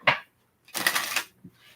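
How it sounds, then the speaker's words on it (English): Tarot cards are shuffled in three quick riffling bursts, the middle one longest, with short silent gaps between them and no talking. "Last shuffle."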